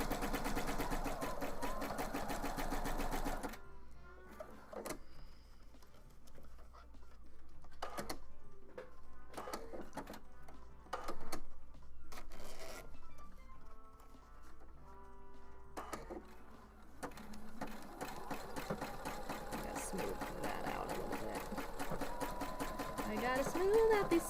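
A sewing machine runs a zigzag stitch on a Nintendo-themed craft, heard as short mechanical bursts of stitching separated by pauses, with music playing before and after.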